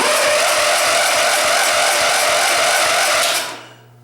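Small carbureted engine revved hard with more throttle, a loud, steady, buzzing roar with a rapid pulsing beat that cuts off abruptly near the end, leaving only faint background.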